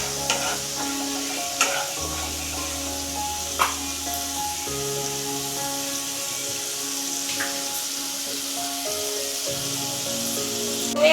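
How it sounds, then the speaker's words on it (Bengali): A spoon stirring doi rui, a Bengali yogurt fish curry, in a cooking pan: soft scraping and gentle sizzling run steadily throughout, with a few sharper clinks of utensil against the pan, fairly close and moderate in level. "একটু নাড়াচাড়া করে নিচ্ছি।"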